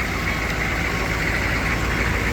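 A 1995 Chevy 3500 one-ton dump truck with a 6.5L diesel engine idles close by, a loud, steady rumbling clatter that holds constant with no voices.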